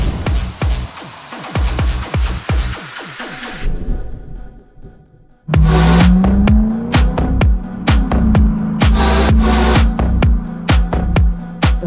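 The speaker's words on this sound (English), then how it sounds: "there's something about a V8 with proper exhaust that is hard to beat" Lexus IS F V8 engine exhaust while driving, loud, rumbling, and close, with a burst of revving that cuts out briefly, then a rising drone and steady throaty roar under sharp rapid pulses.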